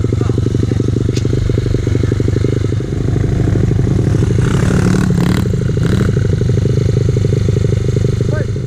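A Honda 50 motorcycle fitted with an 88cc big bore kit runs steadily nearby with a buzzing, rhythmic single-cylinder drone and slight revving, plus some scraping clatter, while people talk over it.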